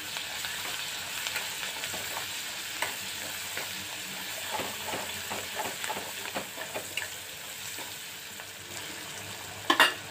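Masala spice mix sautéing in oil in a pan: a continuous close frying sizzle with a rapid series of scraping stirs in the middle and a sharper clatter at the end, with no talk.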